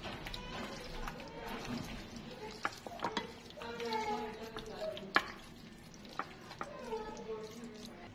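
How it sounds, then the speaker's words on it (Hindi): Marinated chicken being mixed with spices by hand in a home kitchen, with irregular wet stirring and clattering taps against the bowl while a voice talks. "अब अच्छे से इसको मिक्स कर देंगे सारे मसालों के साथ"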